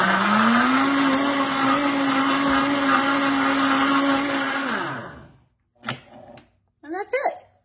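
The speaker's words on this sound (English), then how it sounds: "putting all of this beautiful mix right here into a blender" A blender whirs loudly and steadily through a smoothie mix for about five seconds, then winds down and stops, followed by a few short clattering sounds.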